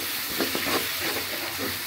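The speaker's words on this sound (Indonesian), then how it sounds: "Tapi kita mau tumis dulu sebentar" Sambal stir-frying in a pan, giving a close, continuous broadband sizzle and hiss with faint scraping of stirring, no voices.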